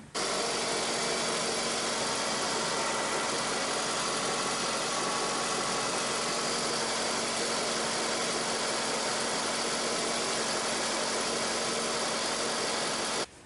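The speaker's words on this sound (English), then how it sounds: "go ahead and start the engine" A 2002 Toyota Camry engine idles steadily after a radiator replacement, a continuous, even mechanical hum with a faint low drone that stays constant and close throughout, with no talking.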